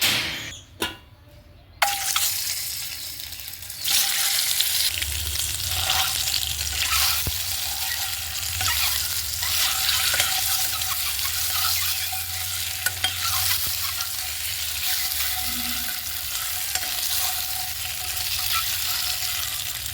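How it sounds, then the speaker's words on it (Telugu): Eggs fry in a tablespoon of oil in a pan on the stove, with a pinch of turmeric added. A steady, close sizzle runs throughout with no voices. "స్టవ్ ఆన్ చేసుకొని ప్యాన్ పెట్టేసుకొని 1 టేబుల్ స్పూన్ ఆయిల్ వేసుకొని ఎగ్స్ని ఫ్రై చేసుకుందాం"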